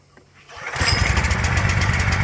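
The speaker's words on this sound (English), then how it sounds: "Chuck's going to go ahead and give it a pull." A DeWalt 4000 PSI pressure washer engine is pull-started: a brief quiet rope tug, then the motor catches and runs loudly and steadily with a dense, buzzing roar close by.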